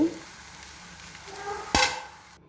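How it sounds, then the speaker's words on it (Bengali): Moringa leaves fry in a pan with a soft sizzle and stirring, broken by one sharp scrape or clatter of the utensil near the end before the sound cuts off. "এই জন্য আমি পাতাগুলো আগে ভেজে নিচ্ছি।"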